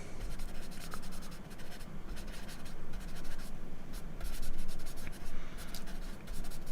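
A pencil scratches and rubs on paper while sketching tree trunks and branches for a spring meadow drawing, a continuous close, dry scraping with quick strokes and no talk.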